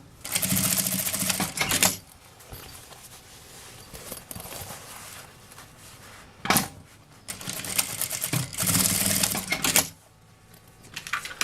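A sewing machine stitches a small fabric bag in short bursts, rapid clattering runs of a couple of seconds each, separated by quieter pauses with fabric handling, close and loud.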